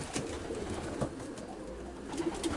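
Racing pigeons in a loft coo softly in low repeated calls over faint background rustle, with a few brief sharper sounds. No voices are heard.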